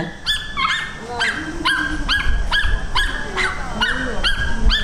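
A dog barks repeatedly in a steady series of sharp, close, loud barks at a roadside rest stop during a monkey performance, with a little background chatter underneath.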